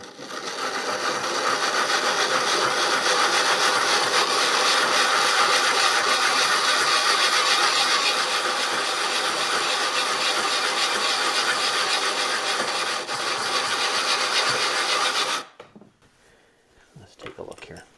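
Busy Bee hand plane frog lapped flat on abrasive, a steady, continuous scraping hiss held close and loud for about fifteen seconds, then stopping abruptly into near quiet with a few light handling knocks.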